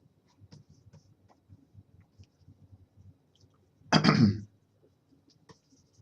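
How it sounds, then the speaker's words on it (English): A single throat-clearing burst rings out clearly in an otherwise quiet room with faint background murmurs. "I'm sorry if I'm gonna be clearing my throat."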